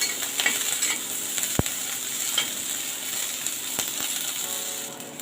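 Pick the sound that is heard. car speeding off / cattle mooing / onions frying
onions frying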